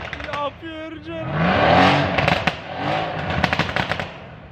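A modified Mercedes-AMG car engine idles at the start, then roars into a loud, sustained rev with crackling exhaust pops and bangs as it settles back down.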